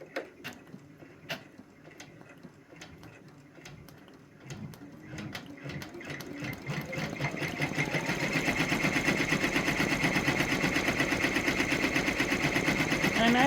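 A Brother PR1055X embroidery machine stitching a design on a towel, starting with scattered clicks and taps and then settling into a steady, fast, close mechanical chatter that grows louder and denser.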